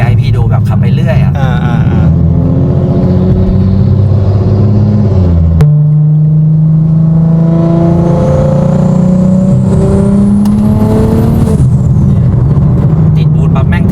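BMW tuned by M-TEC Engineering driving along and accelerating, a loud steady engine drone rising in pitch through long pulls with a gear change partway, with people talking throughout over the engine.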